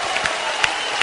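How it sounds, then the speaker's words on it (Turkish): Applause and cheering from a television show studio audience for Turkish performers, a steady dense wash of clapping with a few sharper claps standing out, brief and continuous. "Sahiden de kocaman alkışlar hem bu iki delikanlıya."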